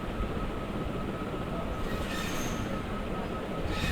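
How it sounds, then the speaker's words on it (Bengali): A sewing machine stitching a cotton salwar runs as a steady, continuous mechanical whir with no pauses and no voices. "এখন আমরা সালোয়ারের হাইটি সেলাই করে নিচ্ছি।"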